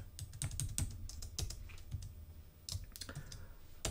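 Rapid, uneven keystrokes on a computer keyboard while writing Rust code, close and clear clicking with short pauses between bursts.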